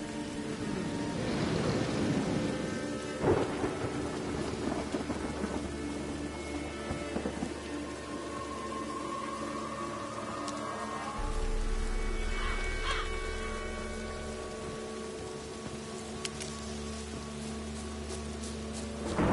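Steady rain hisses throughout a video game thunderstorm, a low rumble of thunder rolls in partway, and faint tonal music sits underneath.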